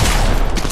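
Gunfire in the video game Fortnite: a loud, dense burst of rapid shots that fills the whole short moment, close and continuous.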